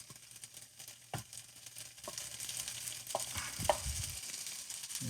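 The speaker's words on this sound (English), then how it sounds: "You basically fry it until it gets crispy." A cheese taco shell frying in a pan until crispy, a soft continuous sizzle with a few sharp clicks and utensil taps, gradually growing a little louder, no speech.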